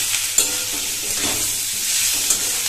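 Chili powder, turmeric and salt stirred into frying kundru in a pan, a dense close sizzle with a few light spatula scrapes and taps throughout.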